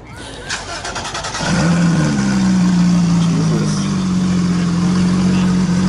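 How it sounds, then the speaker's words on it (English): A Porsche GT3 at a car show cranks briefly and fires up, the engine catching with a loud rev and settling into a steady, close-up idle drone. "Alright, GT3 startup."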